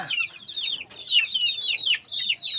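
Chickens clucking in a steady run of short, repeated calls, fairly close and continuous with brief pauses, alone without voices.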